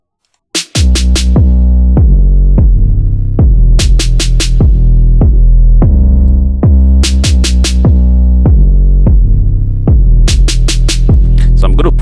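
An Afro trap beat built in FL Studio plays loud and dense, with deep booming bass hits, a rolling percussion pattern, and bright crisp hits recurring in bursts over a sustained low throb.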